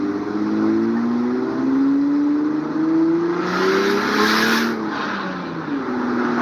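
Car powered by a J35 engine revving and accelerating with climbing pitch, loud and close, with a harsher surge midway before settling back to a steady run.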